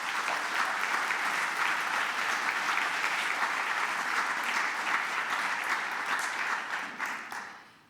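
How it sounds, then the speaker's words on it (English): An audience at a nursing and midwifery festive gathering gives a sustained round of applause, dense and even clapping that fades away at the end. "I think give them a round of applause."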